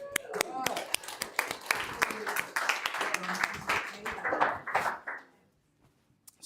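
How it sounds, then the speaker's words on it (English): An audience at a talk on AI reasoning and context engineering gives a round of applause: a dense burst of hand claps for about five seconds, mixed with voices, then fading to silence. "So round of applause."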